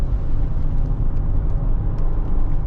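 A 2008 Mercedes-Benz E320 CDI with a 224 hp V6 diesel and 7G-Tronic gearbox, driven in manual mode on a windy road, gives a steady low engine drone and road rumble heard from inside the cabin.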